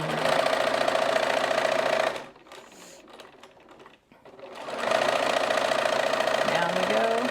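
A sewing machine stitches a grocery bag and needs oil, running in a steady fast mechanical whir, stopping for a few seconds, then starting up again.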